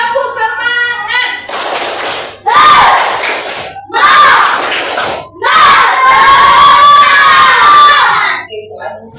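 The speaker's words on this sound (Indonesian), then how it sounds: "sebelum kita mulai, tepuk semangat dulu" A class of young children shouts a rhythmic clap chant together, loud and close, in several bursts of cheering voices and hand claps separated by short pauses, with an adult voice leading between rounds.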